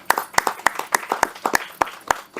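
Clapping from a few people at a movie trailer launch: sharp, separate claps in a steady, fairly quick rhythm, close and loud, with no crowd roar behind them.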